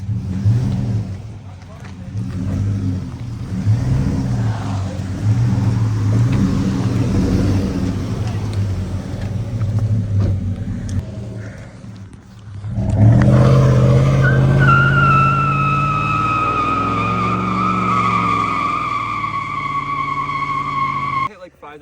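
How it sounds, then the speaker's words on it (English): A new pickup truck revs hard toward about 6,000 RPM, its engine roaring loud and close with tire squeal. Bursts of speech come first, then a rising high engine whine holds under the talk; the exhaust pops are not clearly separate. "You can just hear my exhaust going pop, pop, pop."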